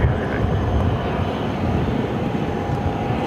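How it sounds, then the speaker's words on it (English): Steady, fairly loud jet engine rumble from a Delta Airbus A330 airliner being pushed back from the gate at Phoenix airport, a continuous broadband roar with no speech. "we got that second Delta A330 pushing it back"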